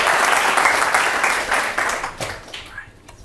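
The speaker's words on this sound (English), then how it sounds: "huge rounds of applause for Pim de Wit." Warm audience applause and cheering at an evening design engineering talk event, a dense round of clapping from a crowd that swells and then gradually fades out over a few seconds.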